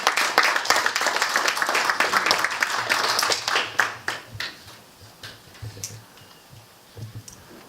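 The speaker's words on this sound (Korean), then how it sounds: "뜨거운 박수 부탁드리겠습니다." Audience applause welcoming a Korea University economics professor to the lecture stage at a leadership academy, dense and steady clapping for about four seconds before it thins into scattered claps and fades.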